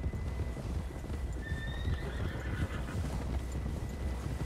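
Horse whinnying over steady clip-clop hoofbeats in the Red Dead Redemption 2 video game, a loud neigh standing out mid-clip against continuous galloping and rumbling background.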